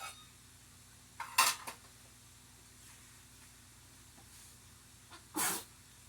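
A quiet room with two short, sharp sneezes, one early and one near the end, separated by faint background noise.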